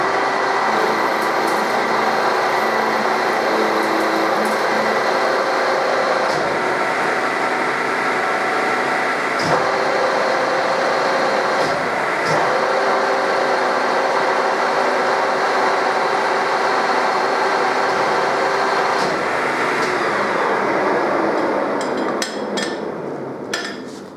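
Milling machine taking a full one-millimetre cut, a loud, sustained grinding whine with layered steady tones, sharp knocks near 6, 9.5 and 12 seconds, and a falling pitch as the cut finishes at the end.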